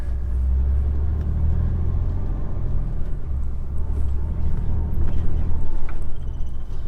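A vehicle engine, a car carrying a water tank, rumbles loudly and steadily with heavy low-end drone, building slightly toward the end as it accelerates.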